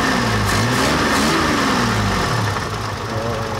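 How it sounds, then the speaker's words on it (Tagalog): Small engine running steadily after a rotor/CDI ignition timing adjustment, a continuous loud idle hum with slight revving that eases off toward the end. "Pag pinaringgan mo yung makina, so may pwersa na siya."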